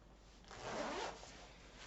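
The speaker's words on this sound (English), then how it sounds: "zip it up" A jacket zipper is drawn up once, close by, producing a short, quiet rasping zip lasting under a second in an otherwise still room.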